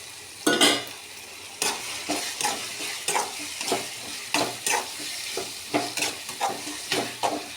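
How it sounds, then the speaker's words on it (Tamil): Tomatoes sauté in a pan as a utensil stirs them in repeated strokes, each stir bringing a burst of close sizzling over a soft frying hiss. "தக்காளி நல்லா வதங்கட்டும்."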